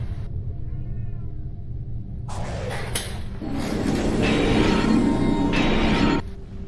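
A pet cat meows close by in a room, with one short cry near the start and then a longer, louder drawn-out meow over a low rumbling background hum. Nobody speaks.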